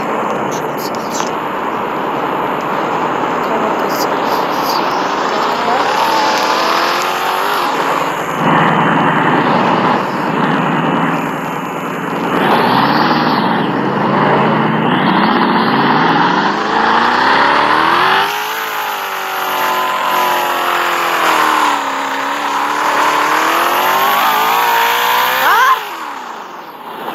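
A car engine revving in the Roblox game Brookhaven, a loud sustained engine tone that rises and falls in pitch over nearly half a minute, with shifts and cuts along the way.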